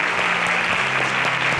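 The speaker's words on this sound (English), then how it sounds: "Kindly Grace and Valerie exit the stage as we give them a round of applause." An audience applauds steadily as two contestants, Grace and Valerie, leave the stage at a televised pitch competition, a dense continuous wash of clapping with no voices over it.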